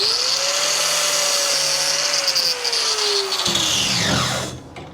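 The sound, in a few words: grinder grinding a notch in a truck frame for a weld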